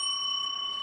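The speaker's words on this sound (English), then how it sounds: "ring the bell again" A small bell rung once more, its steady ringing tones sustained through the short moment with no talk over it.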